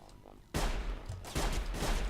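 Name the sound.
gunshot in the video game Sir, You Are Being Hunted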